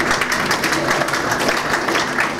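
Steady, dense applause from an indoor crowd at a volleyball club championship awards presentation, loud and continuous throughout with no talk over it.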